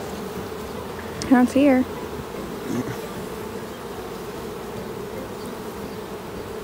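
Honey bees buzz steadily throughout an open hive inspection, a dense close hum with a few louder passes of individual bees near the start; a person speaks briefly over it.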